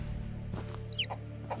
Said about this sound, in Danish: Vi kan høre kyllingerne, de pipler rundt herude.